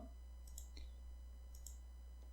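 A few soft mouse clicks sound while a confirm button is pressed in an Excel financial-statement template, faint and sparse over a low steady hum.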